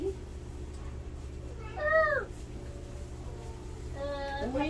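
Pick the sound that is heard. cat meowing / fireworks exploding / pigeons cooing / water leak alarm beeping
cat meowing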